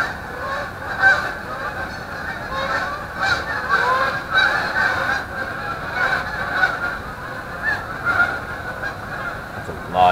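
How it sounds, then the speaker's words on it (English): A large flock of geese beside a carp-fishing lake honks continuously, many overlapping calls forming a loud, dense chorus that rises and falls throughout. "That's a lot of geese."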